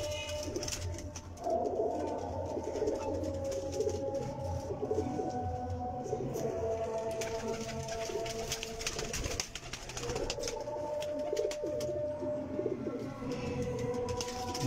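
Pigeons in a dimly lit loft coo continuously, layered rolling calls from several birds close by, forming a steady, fairly loud chorus with no talk over it.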